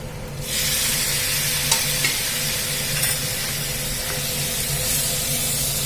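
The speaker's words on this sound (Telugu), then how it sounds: "మనం వేసిన మసాలాలన్నీ మంచిగా కర్రీ మొత్తం పట్టుకునేటట్టు అయితే కలిపేసుకుందాము" Aloo methi curry sizzling and frying in a pan as masalas are stirred through, a loud steady hiss that swells after a moment, with faint scrapes of the spoon, no talking.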